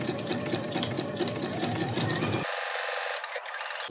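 A sewing machine stitching appliqué pieces onto a quilt block runs in a steady, close mechanical whir, then cuts out abruptly partway through, leaving a faint hum.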